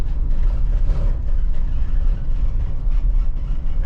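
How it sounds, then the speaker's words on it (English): Loud, steady rumble of road and engine noise inside a van moving through downtown Phoenix, Arizona, a continuous low drone with rattles that fills the whole clip and no one speaking. "This van is kind of noisy."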